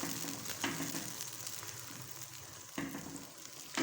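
A poppy seed mixture fries in ghee over a medium flame, giving a soft, steady sizzle with a few light scraping stirs. It is faint and close by.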